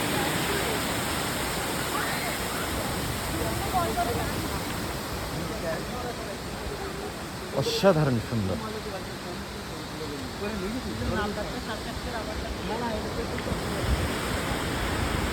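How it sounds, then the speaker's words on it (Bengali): Kynrem Falls near Cherrapunji, Meghalaya, rushes down a rocky hill in a constant broad roar, with a person speaking briefly over it midway and then the water carrying on alone. "পাথরের পাহাড় দিয়েই ঝর্নার স্থানগুলো নিচের দিকে নামছে আস্তে আস্তে"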